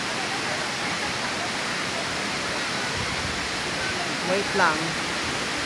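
Batlag Waterfalls in Tanay, Rizal, a constant dense roar of falling water filling the whole scene, with a brief voice speaking over it near the end.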